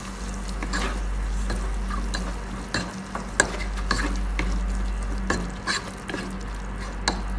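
Fish biriyani masala with freshly added yogurt being stirred in a pan, wet scraping and clinking strokes of a spoon against metal over a low steady sizzle and a constant background hum.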